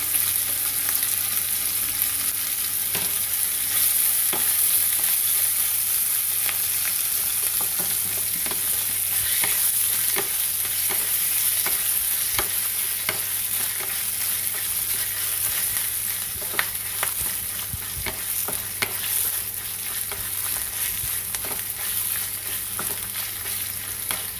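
Chicken sautéing in a hot pan sizzles steadily and loudly, with frequent scraping and stirring clicks over a constant low hum, no talking.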